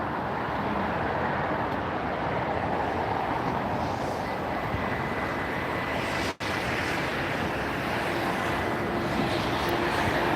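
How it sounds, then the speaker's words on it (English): A DHL Boeing 747-400 freighter operated by Kalitta Air taxiing at LAX, heard as a loud, steady broadband jet engine roar that fills the scene from start to end with no voices. "we got the DHL 747 taxiing over for a Southside departure."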